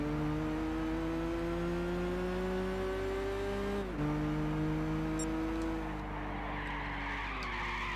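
Race car engines from Gran Turismo 6, with a Zonda among the cars, drone steadily in close-up, their pitch dipping as the car brakes and shifts around 4 seconds, with a light tire skid and squeal late on.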